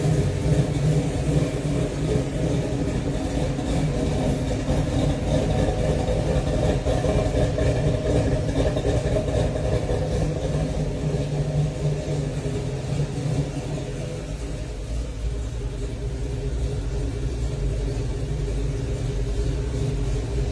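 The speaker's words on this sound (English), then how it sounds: "we let the truck sit here idle and heat cycle" The engine of a 1972 C10 pickup truck idles steadily for about twenty seconds, a continuous low, even rumble close by with no voices and only a slight settling toward the end.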